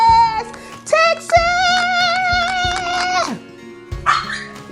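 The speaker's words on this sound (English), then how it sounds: "Excuse the dog in the background." A dog barks in loud, close, sustained yelping howls with a few short barks, mostly on its own during a morning road-trip start.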